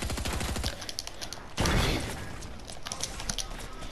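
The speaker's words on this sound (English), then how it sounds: "You shooting them?" A video game shootout with rapid gunfire at the start, then a heavy burst or blast, followed by scattered shots and game clatter, with voices faint in the mix.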